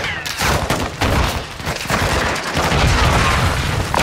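An air support gun run in Call of Duty Modern Warfare II, a loud, sustained barrage of heavy gunfire and booming impacts rolling on for several seconds, close and dense with no talk over it.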